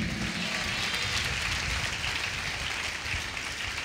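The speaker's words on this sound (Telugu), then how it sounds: "చప్పట్లు కొడదాం అందరూ గట్టిగా" A church congregation at a Hosanna Ministries service claps loudly together, a dense, steady roar of applause that holds evenly for several seconds.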